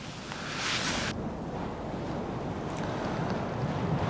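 Strong wind gusts across a rocky volcanic mountainside at night, a steady roaring rush buffeting the microphone throughout, with a brighter, harsher blast in the first second.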